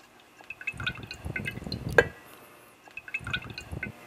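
A compressor oil and water mixture is poured into a CRP oil water separator unit, giving close liquid splashing and trickling in two bursts, with a brief clink between them and no talk.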